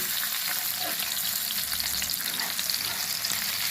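Spicy street-style fish fry crackles steadily in a pan, a dense, continuous sizzle of frying fish close by with no talking.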